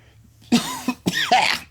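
Two quick, close coughs, harsh and throaty, follow one another within about a second in a quiet room.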